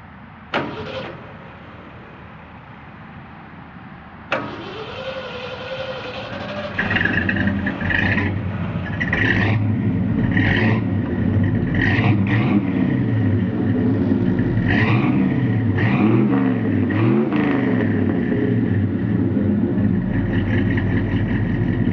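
A 1972 Ford F100 Explorer short bed cranks briefly, then catches and settles into a loud, rough idle, with several quick revs blipping over the steady engine rumble.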